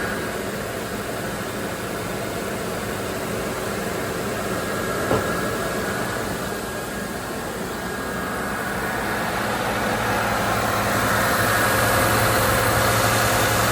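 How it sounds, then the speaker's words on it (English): A car engine idles at about 1200 to 1500 RPM with the AC running and the radiator fans on, giving a steady loud hum and whoosh that swells slightly toward the end. "Fans are starting to come on."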